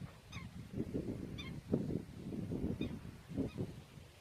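A goose honks repeatedly near its nest outdoors, loud nasal calls recurring in bursts over a steady background rumble, with no talking.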